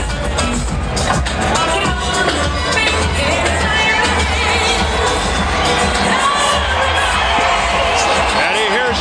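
Boxing arena crowd roaring and cheering for Evander Holyfield, a dense, continuous wall of shouts and whoops with a commentator talking over it.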